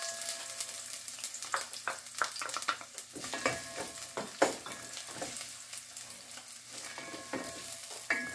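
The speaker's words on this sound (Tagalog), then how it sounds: "gigisa tayo ng bawang at sibuyas" Garlic and onion sauté in a hot pan, giving a steady close sizzle broken by frequent scraping and clinking strokes of a spatula as they are stirred.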